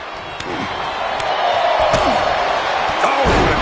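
A clothesline strike lands in the WWE 2K24 wrestling video game, a sharp slam thudding over a loud, steady arena crowd roar with a couple of other impacts nearby.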